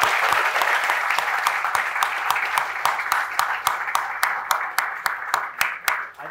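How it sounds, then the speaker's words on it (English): An audience at a business talk session applauds for several seconds, many hands clapping in a dense wash with a few sharp individual claps standing out as it thins near the end. "Let's give a big round of applause."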